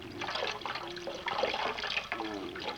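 Cold water pours and splashes close by in a continuous wet gush with gurgling shifts in level, no one speaking over it.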